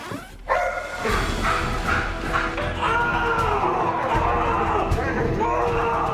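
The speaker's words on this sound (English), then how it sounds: "Elicits a bark" A dog barks and yips close by, with short repeated barks and whimpers over a busy background of other voices and chatter.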